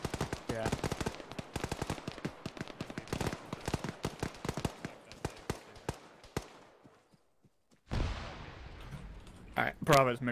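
Gunfire in the military game ARMA 3, rapid bursts of shots cracking close by for several seconds, then a pause before more shots and a brief loud burst near the end.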